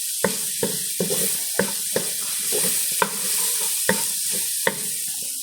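Tomatoes cooking in a pan are stirred in a steady rhythm, each scrape of the utensil landing as a sharp knock roughly every half second over a soft background sizzle, close and clear with no talking.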